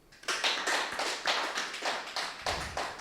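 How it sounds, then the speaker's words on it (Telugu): A small audience claps loudly for the guru Brahmarshi Patriji at a Gurusthan meditation class, close, sharp hand claps in a few rhythmic bursts that swell and fade in rough waves. "ముందుగా మన గురుగారైన బ్రహ్మర్షి పత్రిజీ గారికి గట్టిగా చప్పట్లు కొడదాం"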